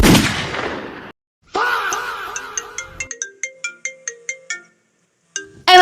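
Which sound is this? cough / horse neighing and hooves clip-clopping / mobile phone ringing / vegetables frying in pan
mobile phone ringing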